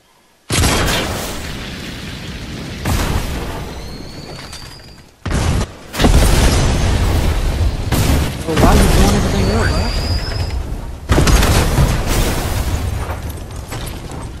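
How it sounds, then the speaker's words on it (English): Explosions in a video game, several loud booming blasts and bursts in quick succession, with excited players talking and shouting over them. "Michael Bay explosion."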